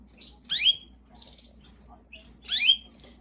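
A pet white canary gives three bright, sharp chirps at uneven intervals, close and fairly quiet, over a faint low background hum.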